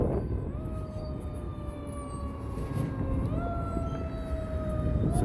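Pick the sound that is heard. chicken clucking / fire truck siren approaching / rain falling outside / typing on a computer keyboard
fire truck siren approaching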